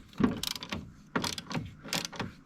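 A hand socket ratchet clicks in short bursts while loosening bolts during fuel tank removal on a John Deere compact tractor, close and crisp, several rapid pawl-click runs with pauses between.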